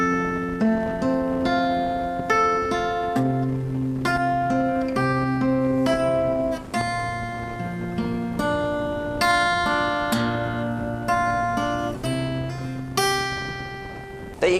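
A song is played slowly on guitar, with steady picked notes and chords moving note by note over a sustained lower line, alone and close.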